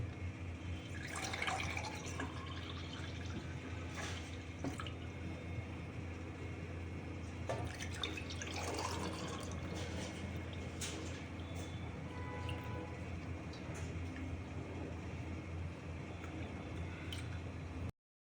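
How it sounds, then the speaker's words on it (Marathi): Chilled watermelon juice is poured into a glass, a faint continuous trickle and splash running steadily for several seconds up close, with scattered drips and clinks. "आता आपण ग्लासमध्ये काढून घेऊ"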